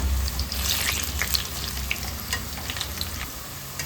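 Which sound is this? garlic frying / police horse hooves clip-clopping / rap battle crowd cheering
garlic frying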